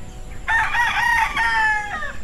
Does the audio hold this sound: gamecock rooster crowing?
yes